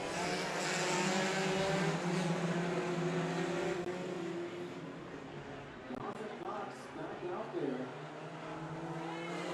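Stinger race cars roar around the Evergreen Speedway figure-8 track, a steady drone of engines with passing revs, heard under a track announcer's continuous commentary.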